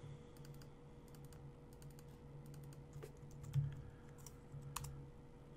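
Fingers type on a computer keyboard in quiet bursts of soft clicks and taps, close by and faint over a low steady hum, with a few louder key presses.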